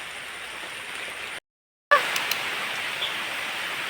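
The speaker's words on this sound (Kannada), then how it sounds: "ಹೌದು, ಮಳೆ ಬಂತು." Rain falls steadily in a soft, even hiss, briefly cut to silence, then resuming with a few sharper drop taps.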